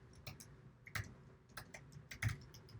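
Keys tapped on a computer keyboard in a quiet room, a short run of light, uneven clicks with a few louder strokes.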